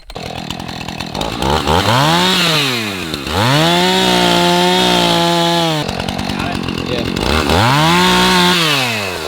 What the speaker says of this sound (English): So we got to do a little chainsaw.